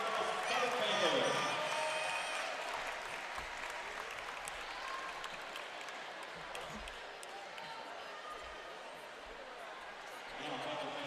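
A gym crowd applauds the state champion Cabot Panthers basketball team at a high school game, sustained clapping and cheering that swells at the start and again near the end, with an announcer's voice over it.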